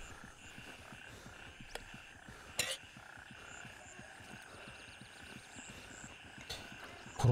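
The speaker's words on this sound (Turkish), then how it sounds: "Kurbağa sesleri gittikçe daha da çok artıyor" Frogs croaking in the Gray Zone Warfare video game, a dense steady chorus of rapid rhythmic croaks with a few sharper clicks and knocks, moderately loud ambient nighttime backdrop without talk.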